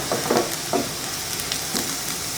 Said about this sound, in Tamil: ஒரு 2-3 நிமிஷத்துக்கு நல்லா வெங்காயத்தை வதக்குனா நல்லா வாடிடும்.